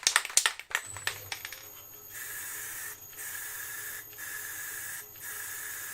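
Ebonising lacquer sprayed from a can onto spalted beech, in several long steady hissing bursts with short gaps between them, after a few clattering knocks at the start.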